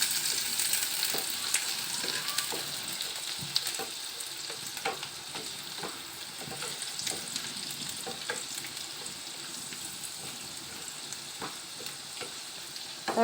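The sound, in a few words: chopped onions frying in a pan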